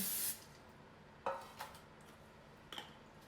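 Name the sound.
non-stick cooking spray on a pan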